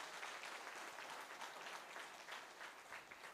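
An audience at a district awards function applauds the program director, a dense, steady round of clapping from many hands that continues throughout.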